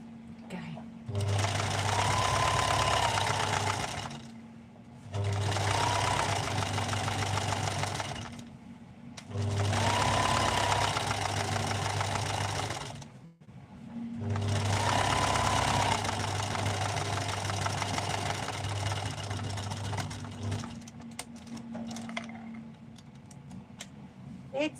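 Top stitching on a sewing machine in black thread runs in several long, loud, steady whirring stretches with short breaks between, close up, fading into quieter handling at the end.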